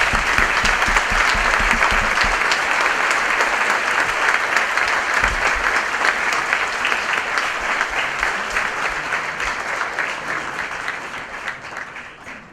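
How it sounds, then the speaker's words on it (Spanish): A packed hall at a political discussion event breaks into sustained applause, dense clapping from a large crowd that stays loud for several seconds and then gradually thins and fades toward the end. "Así que un aplauso para ustedes mismos."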